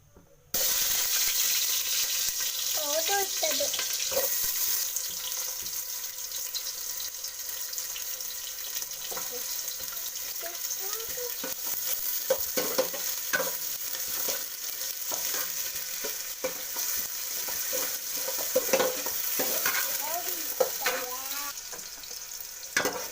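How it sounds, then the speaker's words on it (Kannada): Onions frying in hot oil along with garlic and ginger for a chicken gravy, a continuous sizzle with scattered clinks and stirring scrapes, close and fairly quiet throughout. "ಈರುಳ್ಳಿ ಇಷ್ಟು ಫ್ರೈ ಆದರೆ ಸಾಕಾಗುತ್ತೆ"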